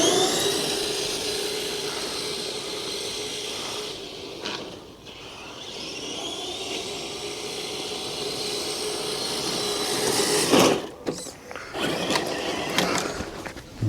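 FTX Kanyon RC car with a brushless motor running on a 3S battery, a loud high-pitched motor whine rising and falling as it accelerates, with brief dips and gritty rattles of the chassis near the end.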